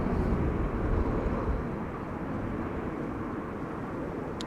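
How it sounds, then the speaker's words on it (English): A Transavia Airbus A321neo arrives at Amsterdam Schiphol on a windy day, heard as a steady broadband jet roar that stays close and loud throughout. "the next airplane coming this way is Transavia flight 5676, arriving from Ibiza, an A321neo"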